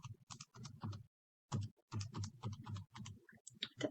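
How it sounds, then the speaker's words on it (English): Number keys are tapped on a calculator in quick, soft clicking runs, with one short pause partway through; quiet and close. "I can go to my calculator. I'm going to type it with the parentheses and everything."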